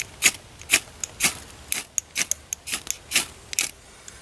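A ferro rod is scraped repeatedly outdoors at a lakeside campsite, giving about a dozen short, bright rasping strokes in an irregular rhythm, close and fairly loud with no talking.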